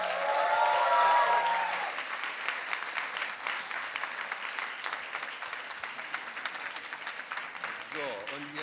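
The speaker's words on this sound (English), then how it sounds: "Big applause for the slammers of tonight," Audience applause for science slam contestants at an evening event: dense, sustained clapping from a large crowd, loudest at the start and then holding steady, with a brief voice near the beginning.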